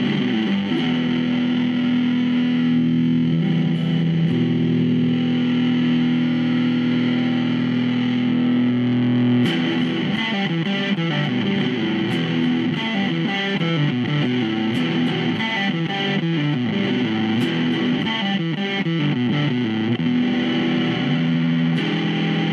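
Electric guitar played through a Plasma Pedal distortion unit, a thick, buzzy, fuzz-like sustained tone that shifts into busier, choppier riffing about halfway through, loud and continuous without talking.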